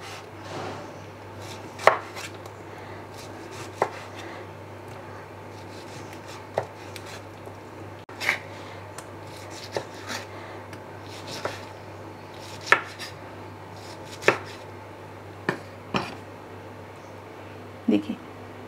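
A knife slicing through a pineapple on a cutting board: a slow series of crisp, isolated chopping taps spaced a second or two apart, fairly quiet and close, over a soft steady background hum.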